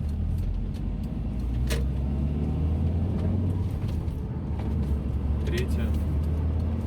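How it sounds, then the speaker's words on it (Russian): A Lada Granta FL interior sits in second gear while accelerating, with a low, steady engine rumble and road noise throughout. A few faint clicks and knocks rise above it. "Но обычный звук работающего автомобиля."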